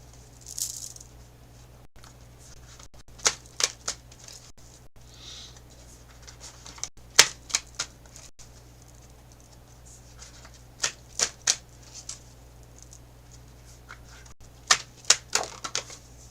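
Tarot and astrology cards being shuffled by hand, giving irregular bursts of crisp card snaps and riffles spread across a quiet room, close and fairly loud, with no talk.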